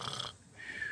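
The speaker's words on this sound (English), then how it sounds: "It is that weird snore he does, isn't it?" An odd, snore-like rasp from a sleeping creature in a live tabletop role-playing game show, one rough nasal burst followed by a fainter drawn-out wheezy tone, fairly close, with no talk.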